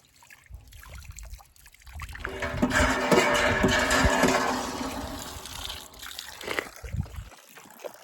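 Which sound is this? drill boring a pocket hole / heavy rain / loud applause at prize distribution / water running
water running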